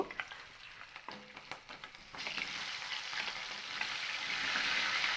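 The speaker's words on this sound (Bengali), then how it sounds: "কাঁচা লঙ্কাগুলোকেও তেলের মধ্যে আমি হালকা একটু নেড়ে নেব" Slit green chillies fry in hot oil in a pan for a fish curry with yam, giving a steady crackling sizzle that grows louder, with a few scraping stir clicks near the start and no talking.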